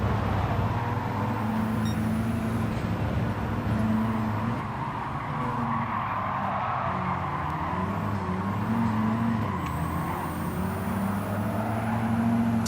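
Racing car engines in Gran Turismo 7 drone steadily and loudly throughout a lobby race, with layered engine tones rising and shifting as cars jostle for an overtake, no talk over them.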